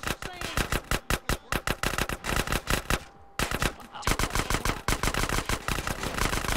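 Rapid bursts of automatic gunfire in GTA San Andreas during a shootout, loud and close, with rhythmic volleys pausing briefly midway before resuming.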